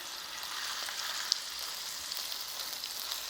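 Firm tofu sizzles steadily in a hot pan after being flipped, a continuous close crackling fry with one brief sharp click partway through.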